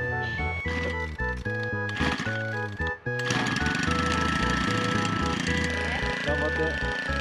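A grass cutter mowing overgrown grass at a campsite under construction, its engine droning loudly and continuously with a rattling, choppy texture and a brief dip partway through, backed by music.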